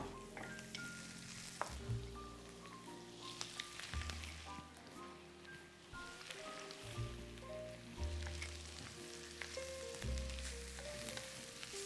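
Mushrooms fry in butter in a pan, a steady close sizzle running throughout with soft crackles, while music plays underneath.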